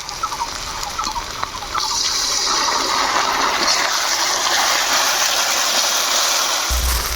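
Water poured into a pan of spiced mutton masala brings a sudden loud, broad hiss and sizzle that carries on steadily after a quieter start.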